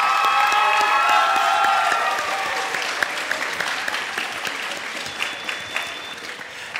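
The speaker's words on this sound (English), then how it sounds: "Let's give her a huge round of applause." An audience at a high school bands' Christmas concert claps loudly and steadily, the applause gradually thinning and fading toward the end.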